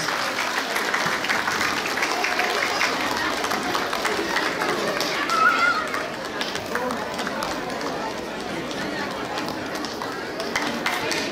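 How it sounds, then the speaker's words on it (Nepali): Audience applause and crowd noise fill a hall at a Kirat cultural program and dance competition in Columbus, Ohio, loud and steady throughout, with voices mixed into the clapping. "विदाउट एनी सर जोरदार जोरदार ताली।"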